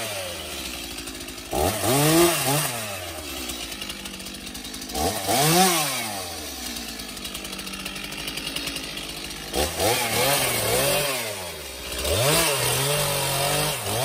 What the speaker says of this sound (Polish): To ja od razu biorę piłę, się biorę za ten krzak.